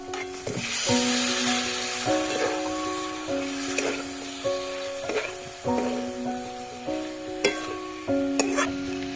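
Chicken sizzles and crackles in a hot pan over a wood-fired stove while a utensil stirs and scrapes, with a soft tonal melody playing underneath.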